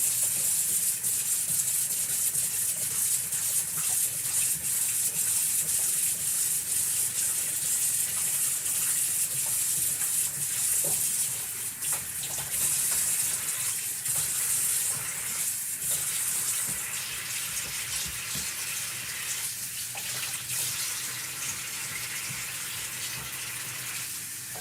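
Water runs steadily from a sink tap while a transfer is rinsed clean, a continuous broadband gush close by that stays fairly constant and eases slightly toward the end, with no talking.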